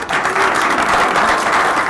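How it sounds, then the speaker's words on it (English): Brief, loud, close applause from a meetup audience for the entrepreneur speaker, a dense burst of clapping with little else audible. "Let's give Viviana a round of applause"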